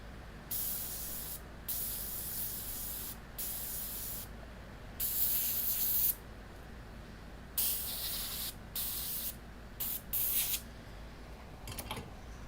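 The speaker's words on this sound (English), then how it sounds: "I blow it out with the air gun" Air gun blowing water out of rinsed circuit boards, a series of sharp hissing bursts of compressed air, each a second or so long, separated by short pauses over a low hum.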